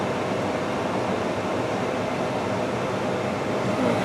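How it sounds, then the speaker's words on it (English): Warm air from the heater of a 2003 Nissan Altima SE blows steadily through the cabin vents, a close, even broadband rush that holds constant throughout with no pauses or talk. "we can check on our heat here. Alright, feel that blowing in nice and warm."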